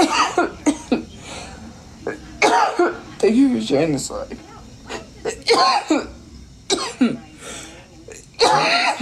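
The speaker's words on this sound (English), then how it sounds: "Sorry, I have a dry cough." Several dry coughs, short and close, scattered between bursts of a person talking during a live stream.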